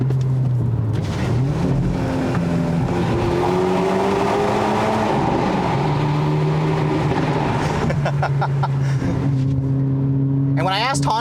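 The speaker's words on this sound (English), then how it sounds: "That exhaust noise is definitely the best sounding exhaust that I'm hearing in this segment." Turbocharged 2022 Hyundai Elantra N sport compact sedan exhaust while driving, a steady droning engine note with shifting pitch and a sharper burst near the end, continuous and fairly loud.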